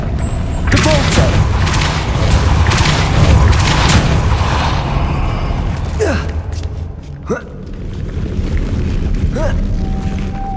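Depulso spell cast in the Hogwarts Legacy video game, a loud rumbling whoosh and blast in the first few seconds followed by a couple of sharper magical zips and a short spoken word.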